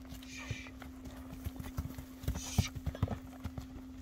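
Karabair racehorses walking and turning, their hooves striking in a loose, uneven clip-clop of near, moderately loud thuds over a steady low hum.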